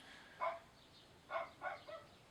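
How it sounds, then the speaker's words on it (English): A dog barks outside, three or four muffled, distant barks spaced irregularly over quiet background hiss. "My dog is barking outside."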